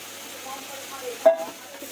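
Tomato masala fries in a pan at low volume, with a gentle sizzle under light stirring and one brief metallic scrape partway through.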